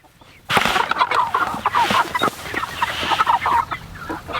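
Farmstead chickens cluck and chatter together near the mic, a busy overlapping stream of short clucks and squawks starting abruptly after a brief quiet moment.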